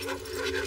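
A dog pants steadily in quick, continuous breaths, close by and fairly loud against a constant background hum.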